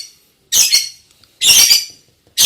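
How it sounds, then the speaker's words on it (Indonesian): Three loud, harsh bird calls in separate bursts, shrill and raspy, with quiet gaps between them, from birds in a backyard at home; no talking. "maaf ini ada suara burung-burung ya, karena ini memang di rumah belakang yang cukup banyak burung-burungnya"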